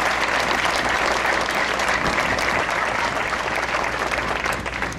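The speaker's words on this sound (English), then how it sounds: "Let's give them another round of applause." Sustained, dense crowd applause fills the room for Miss America contestants at the 2014 competition's arrival ceremony, loud and steady throughout with no talk over it.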